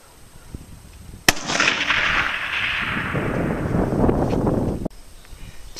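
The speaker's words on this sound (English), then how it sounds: "AK-47, Hornady 123 grain VMAX off the log" An AK-47 firing a Hornady 123 grain VMAX round from a log rest at a target 400 yards away gives one sharp, loud crack followed by a long rolling echo across open ground, then an abrupt cut-off.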